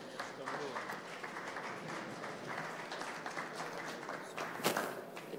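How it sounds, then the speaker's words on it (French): Audience applauding a start-up being called onto the stage at a pitch event, fairly faint, steady clapping with some chatter and movement mixed in. "On l'applaudit."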